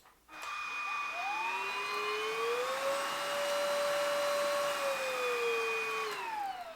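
A Dyson vacuum cleaner whines loudly and steadily nearby, its motor tone rising as it switches up to stronger suction for carpet, then dropping back down near the end, with no talking.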